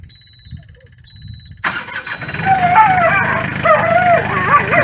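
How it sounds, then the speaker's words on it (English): A dog barks and whines in rising, yelping bursts at a running 25-horsepower compact hydrostatic tractor, whose engine starts abruptly and then rumbles steadily beneath the close, agitated cries. "The dog wants to attack it."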